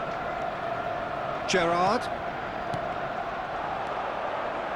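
Steady stadium crowd murmur in an eFootball match, a broad continuous wash of distant spectators running under a commentator's voice throughout.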